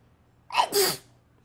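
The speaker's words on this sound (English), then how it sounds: "I have to sneeze." A woman sneezes once, close and sharp: a quick inhaled catch and then a burst of sneeze, alone against a quiet room hum.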